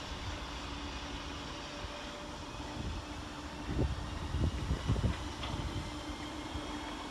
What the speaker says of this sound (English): 508125 departs with the 1215 Merseyrail electric service to Liverpool Central.